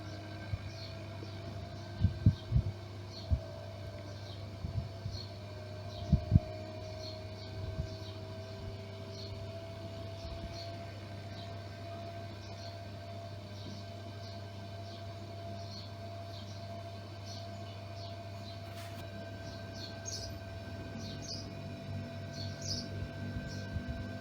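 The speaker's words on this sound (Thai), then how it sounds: "ไม่หมุนครับรอบนี้อ้าวหมุน คอยร้อนทำงานก่อนค่อยหมุนนะ" An LG or Hitachi air conditioner's indoor fan motor and control board running on a test, a low steady hum with faint periodic ticking chirps above it and a few sharp clicks near the start.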